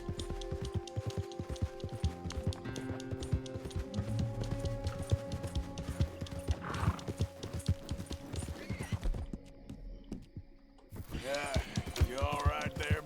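Horse hooves clip-clop steadily in Red Dead Redemption 2, a rhythmic trotting patter over game ambience and music, with a brief near-silent break before the hoofbeats and sounds resume.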